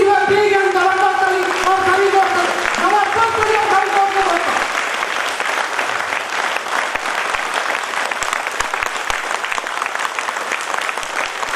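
A seminar audience bursts into loud, sustained applause lasting over ten seconds, with a whooping shout rising over the clapping at first, then crisp scattered claps continuing.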